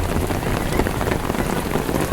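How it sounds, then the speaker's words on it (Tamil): Torrential Mumbai rain keeps up a loud, unbroken roar of drops striking the ground and nearby surfaces, close and even throughout, with nobody speaking. "பயங்கர மழை, சரியான மழையாக இருக்குது மச்சான்."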